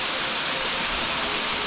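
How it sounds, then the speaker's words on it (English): Huge waterfall pouring inside a cave in Bali, a dense, steady roar of rushing water that fills the whole clip at close range with no break. "Look at this waterfall, that is huge."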